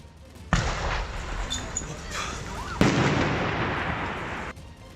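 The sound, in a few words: explosions from burning vehicles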